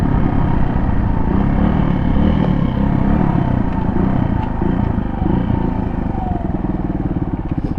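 Suzuki DR200 dual-sport motorcycle ridden along winding hilly roads, its single-cylinder engine and exhaust droning loud and steady throughout with a continuous rough thrum and mechanical clatter, no voices.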